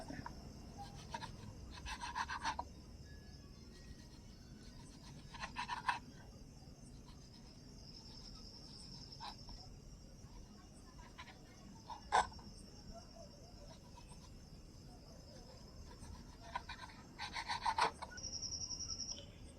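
Parotta flatbread is cut for kothu parotta with faint scraping and cutting strokes in a few short bursts, quiet and close against a low background hum, with no talking.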